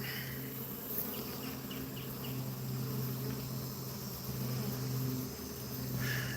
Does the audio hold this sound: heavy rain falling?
no